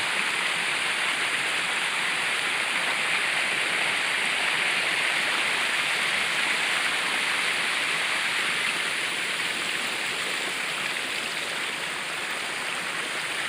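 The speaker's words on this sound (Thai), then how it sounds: "น้ำตกใกล้บ้าน" Steady, dense rush of a natural waterfall behind the Pasak Jolasid Dam in Thailand, loud and close, with a constant hiss and no breaks or voices throughout.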